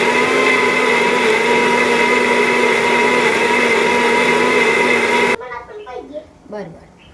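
A kitchen mixer grinder whirs loudly and steadily while grinding fresh coconut chutney, holding a constant motor whine for about five seconds before stopping, and a voice follows.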